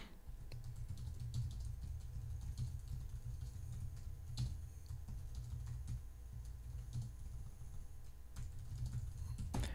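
Steady typing on a computer keyboard, a close, quiet stream of soft key taps with occasional louder presses, and no one talking.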